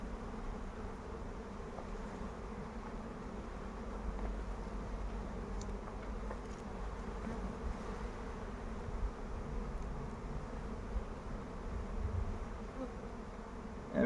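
Honeybees buzz steadily throughout an open two-storey hive during a frame inspection, a continuous dense hum close to the ear, with no voices.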